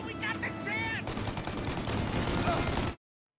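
Rapid gunfire rattles through a shootout in the video game Mafia 1, a dense, steady burst of shots lasting a few seconds, with a voice heard briefly at the start before the sound cuts off abruptly.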